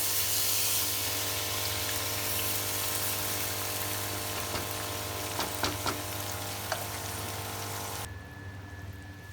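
Water poured into a pan of frying chicken kofta curry sets off a loud, steady sizzle with scattered pops and crackles, then cuts off abruptly near the end.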